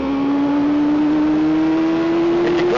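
Kawasaki ZXR400 motorcycle engine holding a steady high rev, a loud continuous whine with a strong sustained tone that creeps slightly upward, close and alone without talk.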